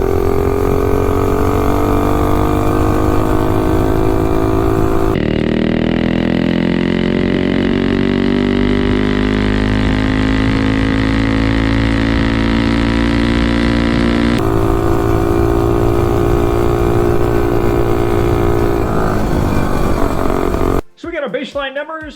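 A vehicle with a Tillotson T225 small engine accelerates hard, its loud buzzing drone rising steadily in pitch through two long pulls, then cutting off abruptly near the end.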